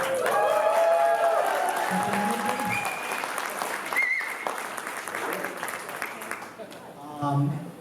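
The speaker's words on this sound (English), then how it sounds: "I didn't hear much applause when Brett came up here, so can we get a bit more noise in here?" A startup-event crowd applauds and cheers for the guest W. Brett Wilson, clapping and whoops rising together under and around voices, with a few shouts standing out before the noise thins toward the end.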